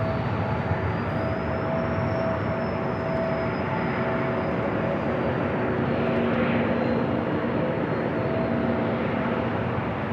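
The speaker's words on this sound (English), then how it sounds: "I got a United A321 Neo up next for takeoff" A United A321neo airliner takes off at San Diego airport, a loud, sustained jet engine roar with a steady whine, heard continuously at a distance without any talk.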